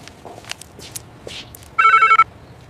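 A telephone rings in a short, loud electronic trill of about half a second, after faint scattered rustling and soft footsteps in a quiet room.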